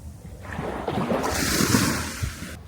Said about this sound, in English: The waves are just behind those bushes.